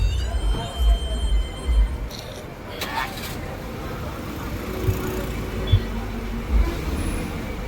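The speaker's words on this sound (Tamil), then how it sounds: "சரியான டிராஃபிக், நல்ல டிராஃபிக்கு." Heavy road traffic crawls through Velankanni, with buses and trucks rumbling close by, hissing air brakes, and horns sounding here and there, while voices speak over the busy street.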